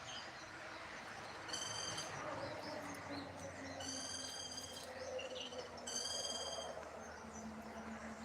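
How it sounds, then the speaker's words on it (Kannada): Several birds call outdoors in a village setting, with repeated bursts of high chirping trills over a constant insect drone and low distant rumble, fairly faint and without speech. "ನೋಡಿ ಯಾವ್ಯಾವುದೋ ಪಕ್ಷಿ ಬೇರೆ ಬೇರೆ ಧ್ವನಿಯಲ್ಲಿ ಕೂಗ್ತಾ ಇದೆ"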